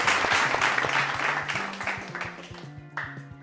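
Applause from a contest audience tapers off gradually, dense clapping thinning into scattered claps while a musical tone plays underneath; a short renewed burst of clapping follows near the end.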